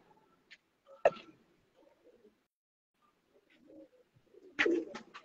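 An old Sialkoti black-faced medical pigeon, three to four years of age, gives a few soft, sparse coos with faint clicks and ticks in a quiet space.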